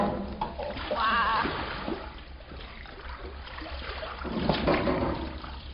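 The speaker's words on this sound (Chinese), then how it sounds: "一条小船上面乘坐四个人，然后有一位柔弱的美女来划桨" A small rowing boat carrying four people is paddled by a woman at the oars, with soft, intermittent water splashes and trickling close by, faint and low under a murmuring background.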